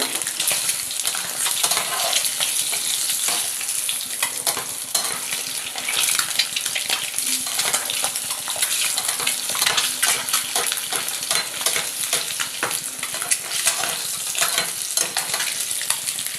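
Steady, dense sizzling of an egg frying in a pan, continuous and close, with occasional faint scraping of a utensil.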